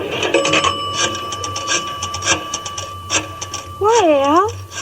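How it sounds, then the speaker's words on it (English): A pay-station telephone clicks and rings while a call is placed, mechanical ticking under ongoing conversation, followed by a warbling tone near the end. "Gonna make a phone call."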